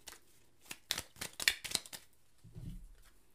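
Tarot card being drawn from a deck, a quiet run of short papery shuffling and slipping sounds followed by a soft thump as the card is set down, close and alone.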